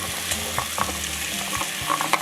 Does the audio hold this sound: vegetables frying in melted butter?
yes